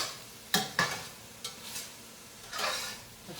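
A spoon moves tomato paste around a hot pan as it browns, giving a few sharp scrapes and clicks over a soft, steady sizzle, with no one talking.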